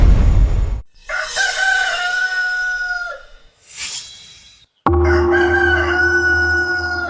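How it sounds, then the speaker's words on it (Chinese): A farmyard rooster crows loudly and close, with long drawn-out calls and a short break between them, followed by another strong crow. "你家鸡已经连续3晚在打鸣了"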